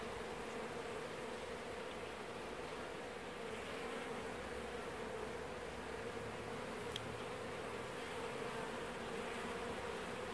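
Honeybees in an aquarium observation hive drone in a faint, steady, continuous buzz that stays even throughout, with no voices.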